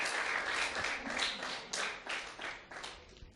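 An audience claps for a newlywed couple at a Rwandan wedding, steady applause with dense overlapping claps throughout, fairly close, alone without speech.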